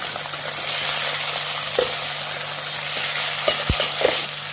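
Steady sizzling of chicken frying with onions in a pan, with occasional stirring scrapes and a few soft knocks, close up and with no voices.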